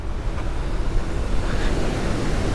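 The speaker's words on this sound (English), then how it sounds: "I'll show you all that water is almost all jetting out through the spillway" Water jets out through the spillway of a dam under active works, a loud, constant rushing roar mixed with wind buffeting the microphone outdoors, with no voices.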